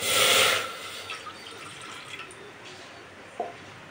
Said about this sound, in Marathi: त्याच्यावर एक टोप ठेवून त्याच्यात 1 ग्लास पाणी टाकून घेऊया